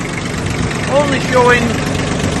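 Kubota B1702 4x4 tractor engine running steadily with a slight rise in revs, heard close under a short spoken phrase.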